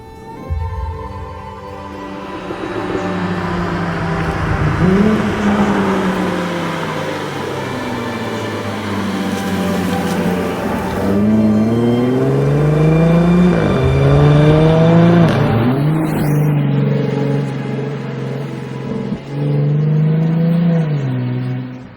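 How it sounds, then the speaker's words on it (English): A car accelerates along a road strewn with leaves in Cape Town, its engine revving up and down in loud, sweeping surges over a constant whir, with no voices. "And then we're accelerating and the leaves going up."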